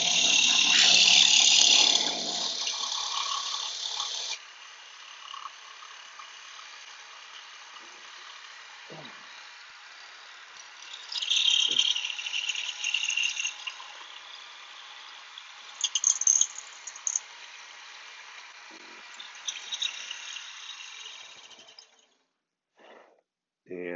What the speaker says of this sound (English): And now the drill bit is getting loose in the chuck, spinning free.